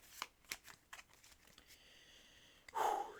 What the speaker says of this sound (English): Let's just do 1 more shuffle of the killer cards.